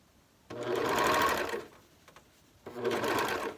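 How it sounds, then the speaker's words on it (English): A serger overlock sewing machine stitches surgical mask fabric in two close, steady whirring bursts separated by a short pause, with no talk over the motor. "That's some good one-handed serging."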